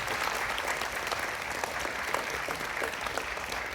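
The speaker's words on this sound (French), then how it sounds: "vous pouvez les applaudir bien fort, qu'ils soient ados ou qu'ils soient seniors" An audience at an intergenerational show in Magny-en-Vexin claps for teen and senior performers, a steady wash of hand-clapping heard from some distance, fairly quiet and even throughout.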